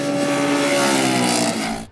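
A motorcycle engine's loud exhaust note holds a steady, strong harmonic drone at high revs, then falls away abruptly at the end.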